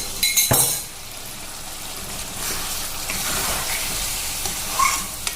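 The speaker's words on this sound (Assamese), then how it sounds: "এতিয়া অকণমান পানী দি দিম আৰু মাংসবোৰ ইয়াত ধুনীয়াকৈ সিজি গৈছে" Water poured into a pan of frying broiler chicken pieces with pumpkin, giving a sharp burst of hissing at the start that settles into a steady, close bubbling sizzle with faint clinks, no voices.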